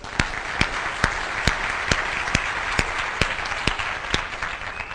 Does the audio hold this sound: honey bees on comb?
no